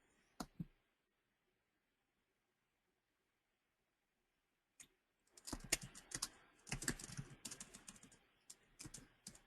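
Quick bursts of keyboard typing, a couple of isolated clicks first, then a rapid irregular clatter of keys up close in a quiet room.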